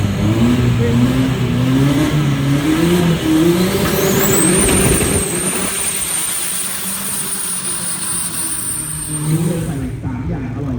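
Loud, roaring drag racing trucks rev and accelerate hard down the quarter mile at Bangkok Drag Avenue, a powerful sustained drone that rises in pitch, with crowd noise in the background.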